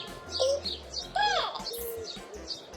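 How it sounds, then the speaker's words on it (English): Birds chirp in brief bright tweets and one rising-falling call, set among banana leaves, close and fairly clear, with some low coo-like tones underneath. "Look at those big blue birds flying around the banana leaves."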